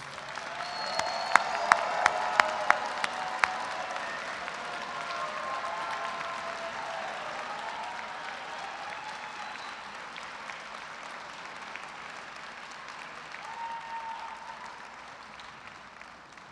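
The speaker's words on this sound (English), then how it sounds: "Let's give them another round of applause" Sustained applause from a large audience honoring graduates at a fall electrical and computer engineering commencement ceremony, a few sharp individual claps standing out early before the dense crowd clapping slowly fades.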